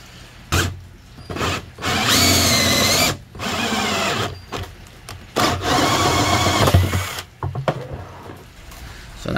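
A power drill bores a hole for a 2-inch bulkhead fitting in a pond filter build, with loud bursts of whining motor and grinding cut that start and stop several times.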